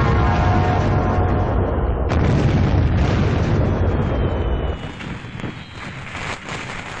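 Firecrackers burst during Diwali in a dense, loud barrage of crackling and booms, with one sharp bang about two seconds in, thinning to a lighter, more distant crackle toward the end.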